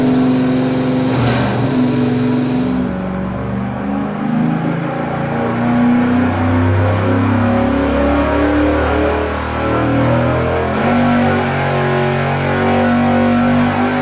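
A 305 V8 engine running nitrous at about 150 horsepower revs on a dyno, a loud, sustained roar with a sharp blip near the start and another surge near the end, no speech.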